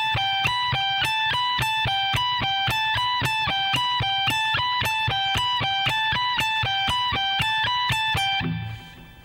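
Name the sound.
electric guitar speed soloing lick played slowly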